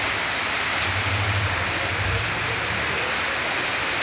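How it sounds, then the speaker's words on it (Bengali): Heavy rain pours steadily during a strong spring storm, a dense, constant hiss close by with a low rumble of wind underneath throughout. "যেমনি ঝড় হচ্ছে তেমনি জোরে বৃষ্টি এসছে ঘেটে।"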